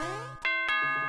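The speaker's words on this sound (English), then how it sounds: "What's that doorbell noise?" A bright two-tone doorbell chime rings out in the Super Mario Maker video game, a clear ding-dong over the game's music, heard loud and alone.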